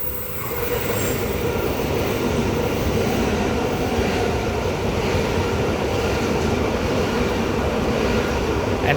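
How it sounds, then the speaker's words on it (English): A Sydney passenger train runs through a station without stopping, producing a loud, sustained rumble of wheels on rail with faint squealing, steady from start to finish and close by. "The next train to arrive on platform 1 does not stop at this platform."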